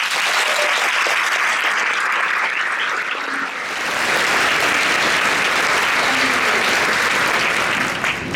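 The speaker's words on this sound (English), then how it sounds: "And now you may applaud." Sustained audience applause fills a state conference hall after the introduction of state regents, a dense, steady wash of many hands clapping that carries on loudly for several seconds without letting up.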